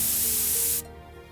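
Pressure cooker letting off steam: a loud, close, rushing hiss that cuts off abruptly after under a second, leaving faint background noise.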